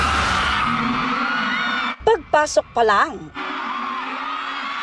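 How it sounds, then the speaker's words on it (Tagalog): At a fan meet for former PBB housemates Will Ashley and Bianca De Vera, a crowd gives a few loud, high screams and cheers in short bursts, with a reporter speaking before and after. "hiyawan agad ang sinalubong ng fans ni na ex-PBB housemates Will Ashley at Bianca De Vera"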